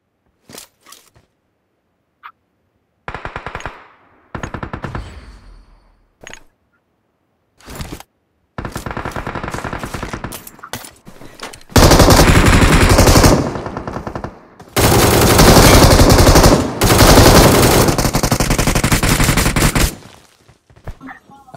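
PUBG Mobile gunfire starts as scattered single shots and short bursts, then builds into long, loud, sustained automatic fire, close up, with only occasional voices.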